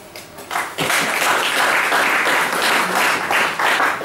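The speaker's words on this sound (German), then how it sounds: "Applaus schon nach dem ersten Statement." Sustained applause fills a room at a German football press conference after a KFC Uerdingen versus Rot Weiss Essen match, rising after a quieter start and holding steady at moderate loudness without talk.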